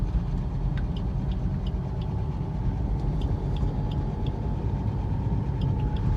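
A car rolls forward in steady driving on a road, its engine giving a continuous low rumble and hum with faint ticking above it.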